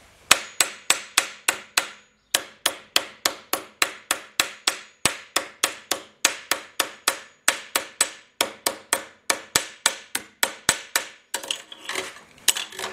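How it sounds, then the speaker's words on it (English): Rapid, sharp hammer blows ring out on sheet metal while shrinking a Willys CJ2A body panel, dozens of loud, evenly spaced strikes in quick bursts with a short break, then a scuffling shift at the end. "don't let anybody tell you you can't shrink with this hammer"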